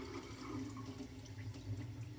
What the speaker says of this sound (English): And then I first turn the water on.